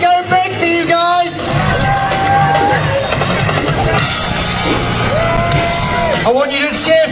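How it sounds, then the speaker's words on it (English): Crowd cheering, shouting and whooping for a freestyle motocross rider at an FMX show, a loud, sustained roar with individual yells rising above it and an announcer's amplified voice over the top. "I want you to cheer for him all the way up to this ramp"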